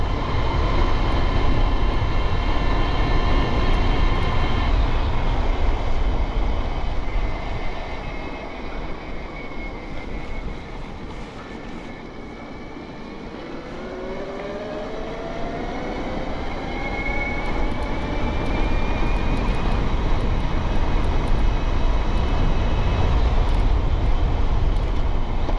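A BBSHD 72V mid-drive electric bike motor whines steadily while riding, its pitch rising and falling smoothly with speed over a broad, loud rush of wind and road noise. It eases off in the middle and then builds again.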